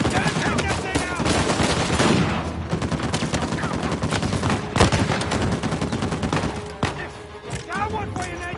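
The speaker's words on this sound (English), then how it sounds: "Sam! Watch the turret!" Heavy turret gunfire in the Uncharted 4 video game: loud, sustained rapid bursts that rattle almost without pause, punctuated by sharper impacts and thuds.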